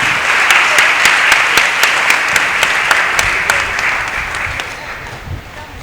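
Loud, sustained applause from a church congregation at a Catholic feast day Mass for St. Anthony of Padua in Lahore, a dense wash of clapping with sharp individual claps, slowly easing off toward the end.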